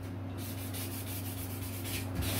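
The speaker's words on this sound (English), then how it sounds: "also sanding the strip that I'm gonna be gluing on there" Steady rubbing of sandpaper against a plastic cowl strip, a continuous gritty scraping with a constant low hum underneath.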